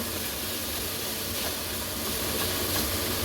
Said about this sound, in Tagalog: Gisa-gisa muna natin hanggang kulay pink pa.